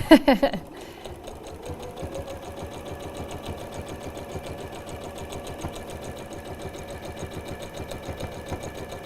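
A sewing machine stitches felt for a coffee collar, running in a steady fast mechanical chatter after a brief burst of louder clicks at the start, close and continuous.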